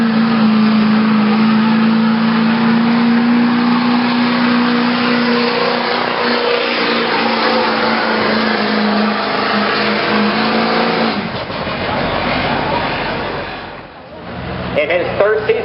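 A pulling truck roars at a county fair truck pull, its engine revving hard and sustained, then dropping and surging again near the end, with an announcer talking over it.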